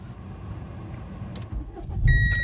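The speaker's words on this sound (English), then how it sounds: "I'll just start the car up for you." 2011 Renault Clio estate with a 1.5 dCi diesel engine cranks and starts, a soft hum building into a louder low rumble, followed by a few electronic chimes from the dashboard.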